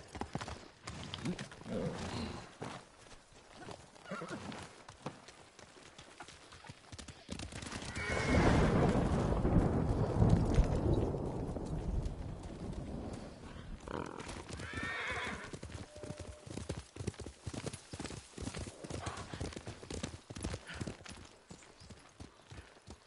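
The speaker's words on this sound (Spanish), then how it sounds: "¡Caballo!" Horse in the samurai action game Ghost of Tsushima, hooves clip-clopping in a steady rhythm with a loud whinny and snort in the middle, all close and clear with little talk.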